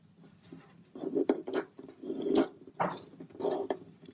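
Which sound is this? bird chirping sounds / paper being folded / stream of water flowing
paper being folded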